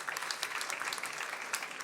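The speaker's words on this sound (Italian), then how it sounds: "Applauso, fate applauso." Audience applause at an Italian technology and sustainability event, a steady dense patter of many hands clapping with no voices over it.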